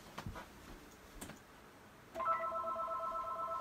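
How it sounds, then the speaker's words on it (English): A telephone rings indoors with a steady electronic trill that starts partway through and continues to the end, preceded by a few faint ticks and knocks in a quiet room. "And there goes the phone."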